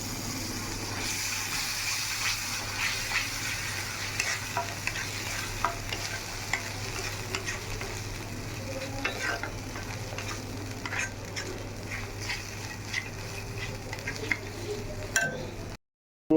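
Chicken stew in a pan sizzles and fries steadily while being stirred, with a splash of stew liquid added; a continuous close sizzle with scraping stir strokes throughout, ending abruptly.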